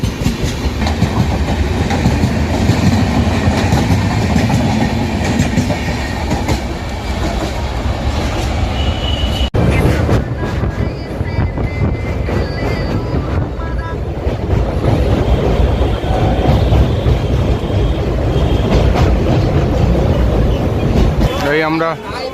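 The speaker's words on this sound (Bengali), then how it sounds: "শিয়ালদা নিউ দিল্লি রাজধানী এক্সপ্রেস যাচ্ছে" The Sealdah–New Delhi Rajdhani Express rushes past close by, its clattering wheels and roaring wind filling the whole stretch with a rhythmic clickety-clack.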